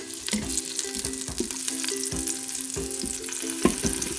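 Green chilies frying with garlic in oil in an Instant Pot for rajma curry give a steady sizzle, broken by repeated scraping stir strokes and light clinks, close and fairly loud.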